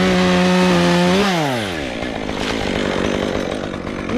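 A chainsaw cuts through a small walnut tree limb during tree removal, loud and close, its idling engine revving up and then straining steadily as the chain bites into the wood.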